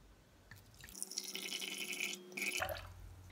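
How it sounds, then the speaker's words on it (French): About 100 ml of water is poured onto a heaped spoonful of oat flakes in a quiet indoor setting, a short close splashing trickle lasting under two seconds, faint and alone. "On va rajouter eh bien 100 ml d'eau."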